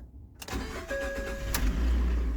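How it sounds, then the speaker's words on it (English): A 2012 Ford F150 EcoBoost pickup with about 222,000 miles cranks and fires up, the starter whirring briefly before the engine catches and settles into a close, steady idle with a slight rattle. "Little rattle."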